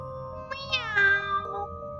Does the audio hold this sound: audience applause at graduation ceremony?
no